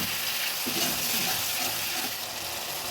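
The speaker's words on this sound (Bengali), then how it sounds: "জল দিয়ে নেড়ে দিচ্ছি।" Ground spices (coriander, red chilli, turmeric and Kashmiri red chilli powder) are stirred with water in a frying pan before bata fish goes in, giving a continuous bubbling sizzle with scraping stir sounds close by.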